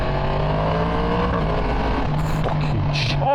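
A 2023 Yamaha MT10 motorcycle with a Woolich remap, heard on the ride with a steady loud engine drone that shifts pitch as the revs change, plus wind noise and a few sharp higher bursts near the end.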